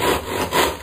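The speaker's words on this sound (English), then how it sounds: "So this saw's a wee bit blunt, so I'm going to have to try and fight with it here to keep it straight." A blunt handsaw cuts skirting board, giving two rough rasping strokes, one push and one pull, close and moderately loud.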